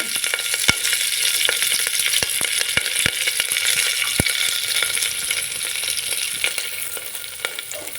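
Onion, green chili and curry leaves fry in hot oil with cinnamon and cloves for a pulao, a loud, steady crackling sizzle punctuated by sharp pops and occasional spoon clinks, without talk.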